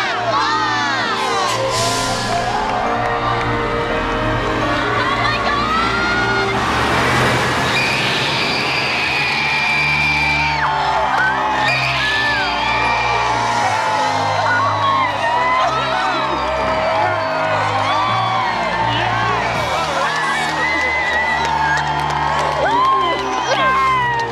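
Large crowd cheering, yelling and shouting as a bus is moved away at a home makeover reveal, a loud sustained roar with excited children's shrieks throughout.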